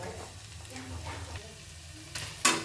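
Fried potatoes and beans being stirred in a pan for pasta, a quiet sizzle under gentle scraping, with a sharp clink of utensil near the end and no talking.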